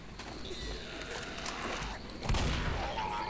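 Gunfire in a shooting video game: a sharp burst of shots cracks out near the end, over a busy game soundscape, with people talking throughout.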